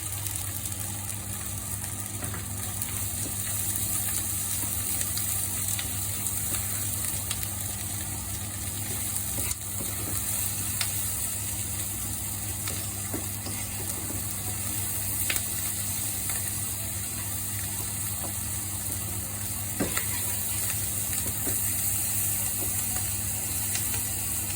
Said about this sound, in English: see the onions are cooking down there now